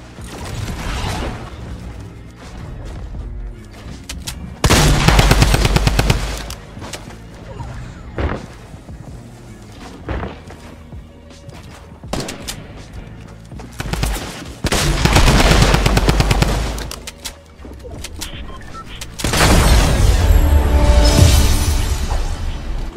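Repeated bursts of automatic gunfire from the video game Fortnite, loud rattling volleys around 5, 15 and 20 seconds separated by quieter stretches of game ambience and mechanical clatter.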